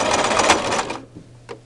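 A Brother LX3014 sewing machine stitches super bulky knit strands in a loud, fast rattling run of needle strokes, then stops abruptly, leaving a low hum and one brief clack.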